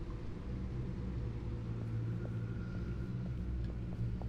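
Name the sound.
sports car engine purring, from the video game Batman: The Enemy Within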